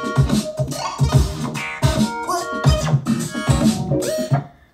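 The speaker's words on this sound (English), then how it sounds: "So here I've got a drum rack that spits out unlimited randomized sequences for me." Randomized drum sequences from an Ableton drum rack, with punchy, loud hits in a busy, irregular groove and a tonal layer underneath, playing steadily for several seconds with no voice.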